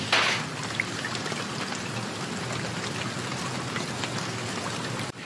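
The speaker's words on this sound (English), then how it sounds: "It's raining in Manchester." Steady rain falls in Manchester, a dense, even hiss of drops spattering on surfaces, continuous and fairly close with no voices.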